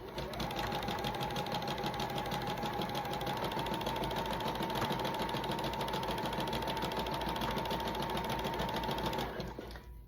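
A sewing machine runs steadily for about nine seconds stitching a wide zigzag seam on underwear fabric, a loud continuous motor whir with rapid needle rhythm before stopping abruptly.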